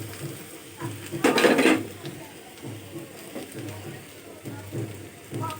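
Potatoes dropped into a pan of frying spices for a liver chorchori make a short, bright clattering rush, followed by a soft, quieter sizzle with faint intermittent scrapes.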